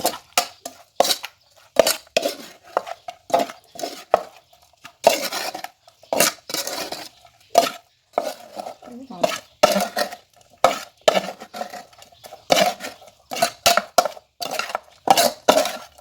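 Pork larb being tossed with green onions in a pan, with repeated irregular scraping and clinking of a utensil against the pan, some strokes quick and bunched, others spaced, close and clear with no talk.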